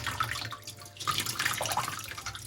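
Hot water from a freshly boiled kettle pours steadily for a few seconds during a DIY glass-bottle cutting job, a continuous close splashing stream with no talking.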